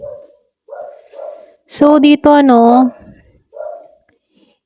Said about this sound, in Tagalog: pasensya na sa ingay ng aso ko